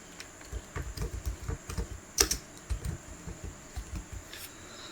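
Fingers typing on a computer keyboard while entering an attendance list in an Excel spreadsheet: steady, fairly quiet clacking keystrokes in a quick uneven rhythm, close by, with no voices.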